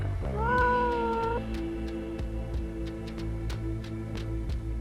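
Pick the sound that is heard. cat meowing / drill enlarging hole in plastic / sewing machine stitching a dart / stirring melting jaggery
cat meowing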